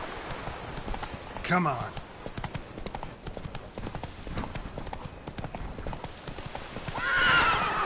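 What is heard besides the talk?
horse Roach galloping in video game The Witcher 3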